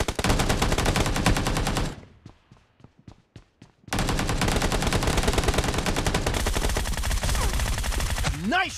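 Rapid automatic fire from a UMP submachine gun in a video game, with long dense bursts, a short pause holding a handful of separate shots, then another sustained burst, loud and close.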